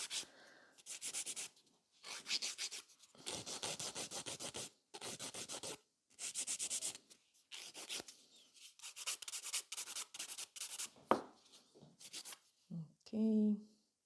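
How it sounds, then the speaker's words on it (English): A file rasps against a fiber gel fingernail on the pinky in repeated short strokes, close and crisp, with brief pauses between bursts and a voice speaking near the end. "And then I file the pinky on my own"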